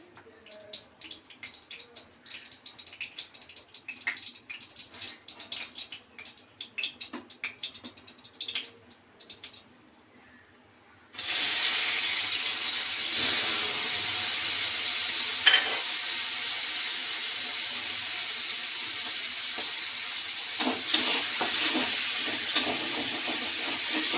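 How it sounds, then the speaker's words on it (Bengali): Shrimp frying in a little oil in a hot kadai, a quiet crackle at first that suddenly swells into a loud, dense, steady sizzle with occasional sharper pops. "অল্প তেল দিয়ে আমি চিংড়ি মাছটাকে ভেজে নেব"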